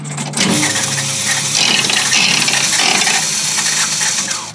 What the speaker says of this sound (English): Slot machine. And you put quarters in like this. Pull the handle.